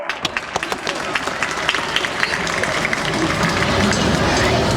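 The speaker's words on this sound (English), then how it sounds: "Big round of applause for Rapid Transit." A crowd applauds steadily, dense clapping that builds and holds, with a few sharper claps standing out near the start.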